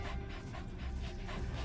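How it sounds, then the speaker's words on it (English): D-Dog, the dog companion in the Metal Gear Solid V video game, panting in quick, steady rhythmic breaths, soft and close, with no talk over it. "another option is D-Dog, which is great for tracking and scouting"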